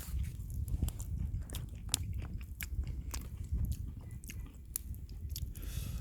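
Someone chewing food at an outdoor bonfire in a front yard, with repeated crisp biting and crunching clicks over a low crackling background, close and steady, no talking.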